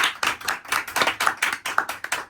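A crowd of staff at a Sethi Jeweller staff meeting in Sialkot claps loudly in quick, steady rhythmic bursts, close and lively, with no talking over it.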